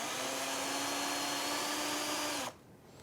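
A cordless drill-screwdriver running in reverse to back out a screw, a steady close high-pitched motor whine lasting about two and a half seconds before cutting off abruptly.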